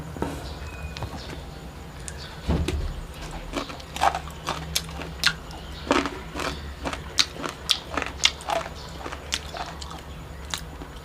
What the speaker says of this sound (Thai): เรามากินกันเลยครับ